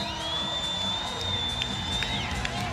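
A sold-out arena crowd at a WNBA Finals game between the Mystics and the Sun cheers in a steady, loud roar, with whoops and whistles riding above the sustained wash of voices.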